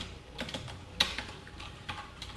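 Rapid, uneven keystrokes on a computer keyboard while Python class code is entered, close and fairly quiet, with one sharper key clack near the middle and no voices.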